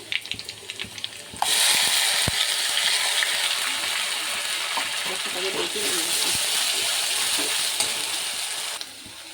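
Garlic fries in a pan until reddened, a loud, steady close sizzle and hiss lasting several seconds, with faint stirring clinks and a voice over it.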